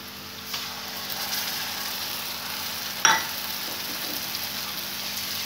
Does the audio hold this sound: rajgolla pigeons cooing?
no